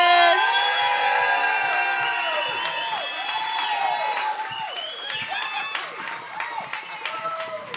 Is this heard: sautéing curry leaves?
no